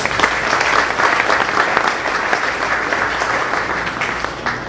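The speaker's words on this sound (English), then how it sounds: "Can you please join me in celebrating the team behind this special night with a round of applause again?" Dense, loud audience applause fills a gala room, a steady wash of many hands clapping without pause throughout, close and unbroken by talk.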